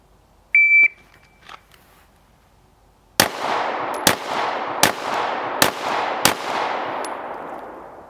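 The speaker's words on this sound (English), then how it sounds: "You're going to draw and fire 5 rounds in 5 seconds." Pistol drawn and fired five times at a target on an outdoor range, a shot timer's beep first, then five loud, sharp gunshots at roughly even intervals, each followed by a ringing echo tail.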